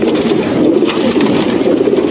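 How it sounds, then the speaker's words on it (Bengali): Pigeons, including silver-coloured birds, coo together in a home loft, a loud, close, continuous chorus of throaty cooing with no talking. "তার আগে আমরা ফুল সব কবুতরগুলো একসাথে দেখে দেখবো"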